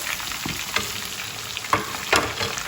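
Chicken frying for Lahori chargha, with hot oil repeatedly ladled over it: a loud, continuous close sizzle broken by several bursts of splashing as the oil is poured on.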